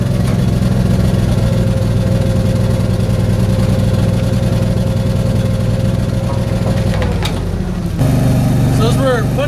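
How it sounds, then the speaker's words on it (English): Bucket truck engine idling loudly and steadily while the outriggers are lowered, with a person talking over it and a brief mechanical clunk and shift in tone near the end. "keep an eye on it and we push down on the outrigger"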